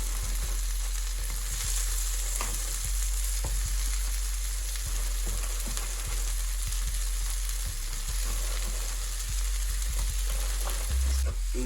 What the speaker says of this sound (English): We'll add our fried tofu.